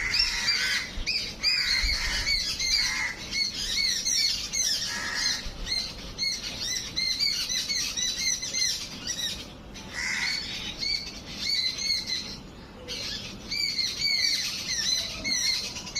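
Crows caw harshly and repeatedly while chasing an owl hiding among tree branches, a noisy, overlapping chorus, loud and close, continuing without pause.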